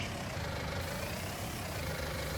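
A tractor engine idles during a sunflower harvest, a steady low diesel rumble with broadband noise, fairly quiet and continuous with no talking.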